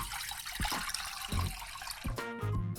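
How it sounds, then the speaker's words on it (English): Water splashes and gurgles into a cooking pot on a kitchen stove, a busy rushing pour broken by a few hollow knocks and clinks, fairly close and moderately loud. "Add to the pot a quart of water"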